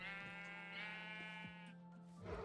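Minecraft sheep bleating in a quiet blocky game world, one long wavering bleat that fades into a softer second call, faint and alone with no talk.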